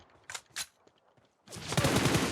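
Automatic gunfire in the mobile battle royale game PUBG Mobile, two short bursts early on, then a louder, sustained rattling volley of rapid shots filling the second half.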